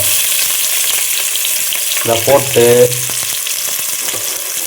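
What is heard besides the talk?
onions frying in hot oil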